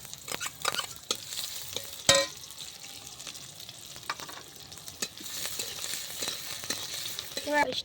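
Chopped onion frying in white oil for a potato filling, cooked over a clay stove, with a moderate sizzle under repeated stirring scrapes and a sharp knock or two against the pan.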